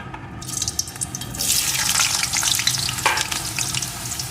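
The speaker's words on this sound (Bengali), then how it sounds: "এখন আলুর টুকরোগুলোকে লাল লাল করে ভেজে নেব" Potato pieces hit hot oil in a kadai and burst into loud, close, bubbling sizzle that swells after the first second and keeps crackling steadily.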